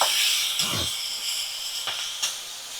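Chopped onion and tomato fry in a pan with a steady, bright sizzling hiss. A few soft stirring knocks and clinks rise briefly above it.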